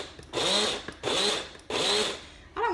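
Electric spice grinder chopping dried rosemary to a medium grind for Italian seasoning, running in three steady whirring bursts of under a second each with short pauses between, close and fairly loud, a fourth burst starting at the end.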